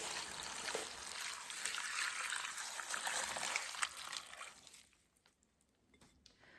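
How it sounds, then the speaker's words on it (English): Warm water pours into a paper pulp mixture for homemade seed paper, a steady trickling gush for several seconds that thins and stops, leaving a few faint drips, with no talking. "Now we're gonna add 2 quarts of warm water and let it set for 2 hours."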